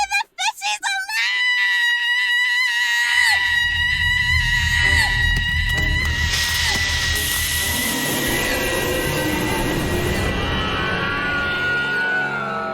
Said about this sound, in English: That was almost a Wilhelm scream. Like, really close.